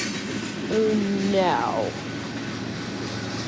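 A freight train with a mid-train distributed power locomotive rolls past in a steady, heavy rumble, with a person speaking briefly over the passing cars.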